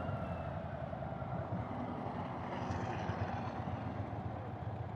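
A 2023 Indian Sport Chief motorcycle with the 116 cubic-inch V-twin rumbles steadily. It gives a continuous low, throaty drone with some wind noise mixed in.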